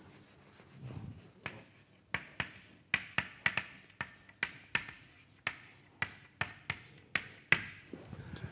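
Chalk or marker writing on a board during a mathematics lecture on reaction-diffusion problems, a steady series of sharp taps and short scratching strokes, close and clear, with no talking.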